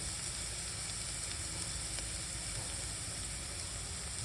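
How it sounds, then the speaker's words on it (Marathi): Marinated mushrooms sizzle steadily in a pan with turmeric for mushroom masala, a soft even frying hiss with faint crackles, quiet and continuous with no talk. "पिंकिश कलर येईपर्यंत याला आपण फ्राय करून घेऊया"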